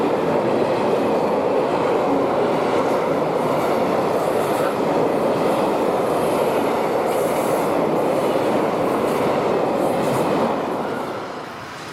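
Train with locomotive and wagons on the Main-Lahn railway rolling past close by, a loud continuous rumble and rattle of wheels with some faint squealing, fading slightly at the end, with no talking.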